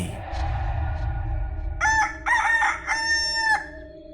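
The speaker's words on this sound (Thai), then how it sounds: "ไม่นานพระอาทิตย์ก็ขึ้นสู่ท้องฟ้า ไก่คันร้องประสานเสียง" Roosters crow at sunrise in a series of three loud, close cock-a-doodle-doo calls in quick succession, preceded by a low rumble of ambient background noise and no talking.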